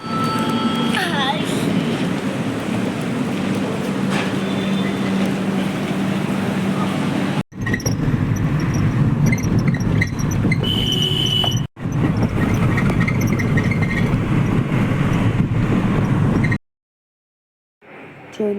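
Passenger train pulling into Borivali, Mumbai, running late: a steady loud rumble of wheels and carriages fills most of the stretch, with brief cuts and a short silent gap near the end, and a faint squeal in places.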